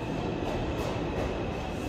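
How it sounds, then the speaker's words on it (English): New York City subway train running toward World Trade Center: a steady, loud, smooth rumble of wheels and tunnel roar inside the car, without pause or talk. "Riding the subway low-key smooth."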